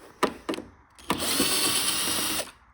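Two short trigger bursts from a power drill, then a sustained whirring run of over a second as screws are removed from an arcade and pinball cabinet.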